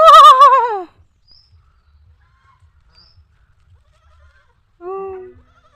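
A young goat kid in a sweater on a foggy winter riverside morning gives a loud, wavering bleat, then falls silent before a second shorter, quieter bleat near the end.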